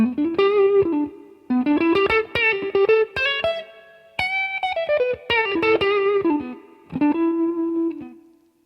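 Roland Blues Cube Artist guitar amp at 25% gain with light overdrive, electric guitar playing bright chords and single notes in bursts with short pauses between phrases.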